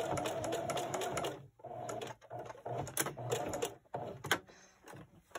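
A sewing machine stitches fabric strips for a jelly roll rug in short bursts of rapid whirring, separated by brief pauses, close and fairly quiet.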